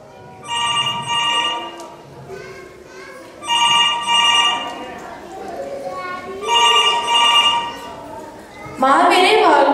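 A telephone rings for an incoming call during a cultural program, three clear bursts of bright electronic ringing spaced a few seconds apart, with people talking between the rings.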